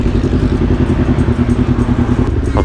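Close up, a Kawasaki Ninja 250FI motorcycle with a remapped ECU accelerates, its engine throbbing in a steady, pulsing drone for a couple of seconds.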